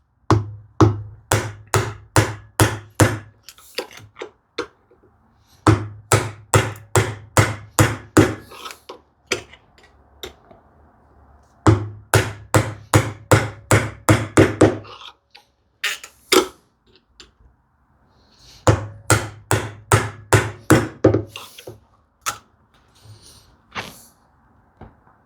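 A hand chisel is struck repeatedly to chop into wood during hand-tool cupboard woodworking, giving close, sharp mallet knocks in four fast rhythmic bursts of about ten blows each, separated by short pauses.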